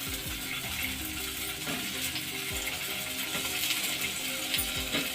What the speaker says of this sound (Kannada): ಎಣ್ಣೆನ ಹಾಕಿ ಇದರೊಳಗೆ ಮೊಟ್ಟೆಗಳನ್ನೆಲ್ಲ ಇಡ್ತಾಯಿದ್ದೀನಿ. ಮೊಟ್ಟೆನೆಲ್ಲ ಸ್ವಲ್ಪ ಫ್ರೈ ಮಾಡ್ಕೋಬೇಕು.